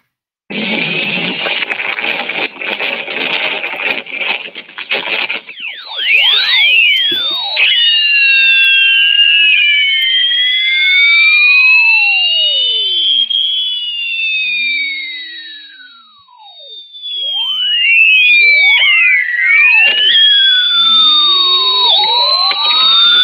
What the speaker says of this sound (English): a very sensitive detector on board that converted the variations in the Earth's magnetic field into sound